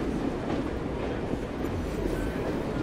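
Steady rumbling of a train in Assassin's Creed Syndicate, a continuous dense roar of rolling carriages filling the whole stretch at even, loud level.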